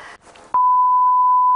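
A steady censorship bleep tone over a recorded word on a Tunisian TV segment, loud and sustained for about a second, following a brief stretch of muffled talk.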